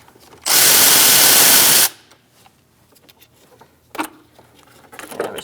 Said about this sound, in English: Using a 10mm socket, we're going to remove our negative battery terminal first.